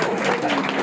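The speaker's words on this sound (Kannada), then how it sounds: "ನಮ್ಮ ಲಕ್ಷ್ಮಿ ಶ್ರೀಲಕ್ಷ್ಮಿ ಅವರ ಪತಿದೇವರಂತೆ ಒಂದು ದೊಡ್ಡ ಚಪ್ಪಾಳೆ ಇನ್ನೊಂದು ಬಂದ್ಬಿಡಿ." A music show audience at a mall applauds, a dense steady wash of clapping filling the short moment at close range with no pause.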